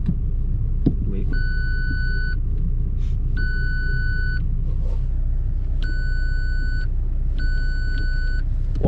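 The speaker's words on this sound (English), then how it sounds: "when you put it in reverse and it like beeps" Four evenly spaced electronic beeps, each lasting about a second, sound over the idling rumble of a VW MK4 TDI wagon put in reverse at a junkyard. A couple of faint knocks are also heard.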